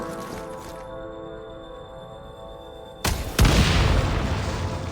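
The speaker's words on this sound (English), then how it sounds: "Shoot the explosives to detonate them and clear the path." Explosives detonating in Genshin Impact, a sharp booming blast that cuts off a sustained musical tone, followed by a second heavy impact and a loud, lingering rumbling roar.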